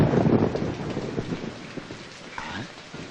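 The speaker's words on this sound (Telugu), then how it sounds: "అమ్మా భారతి, ఇంత రాత్రిపూట ఈ వర్షంలో ఎక్కడికమ్మా బయలుదేరావు?" Steady rain falling at night, a dense continuous wash with heavier patter early on that eases slightly toward the end, with no voices.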